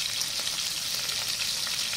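Pork ribs sizzle and crackle steadily in a hot pan, a dense, even frying hiss with scattered pops, close and continuous.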